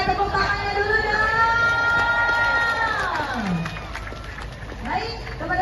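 A crowd at a community creative aerobics competition in Bandar Lampung cheers loudly with sustained shouts and whoops and a faint patter of claps underneath, then the noise dies down briefly before another shout rises.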